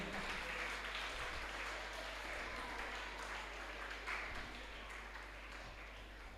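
Faint, distant applause rolls steadily from an audience at a school annual day prize distribution, an even, soft patter of many hands clapping with no voices over it.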